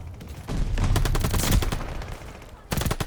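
An MP40 submachine gun rattles in Call of Duty Vanguard, a loud sustained burst of rapid automatic fire, a brief lull, then another burst starting near the end.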